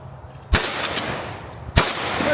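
Two shotgun blasts ring out at a sporting clays course, a sharp report near the start and another about a second later, each with a brief echoing tail over outdoor ambience.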